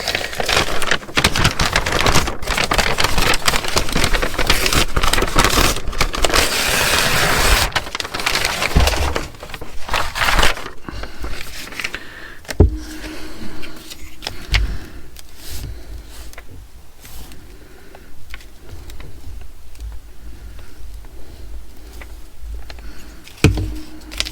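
Packaging paper is handled and crumpled for a junk journal, with dense crinkling and rustling at first, then sparser rustles and occasional sharp crackles, close and loud, with no talking.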